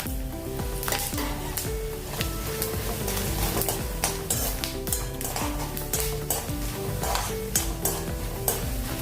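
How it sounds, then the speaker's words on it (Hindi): Whole spices, including cloves, green and black cardamom and mace, sizzle and fry in a pan while being stirred, with steady crackling and frequent scraping and clinking of a spoon against the metal throughout. "ये अच्छे से मसाले भून गए"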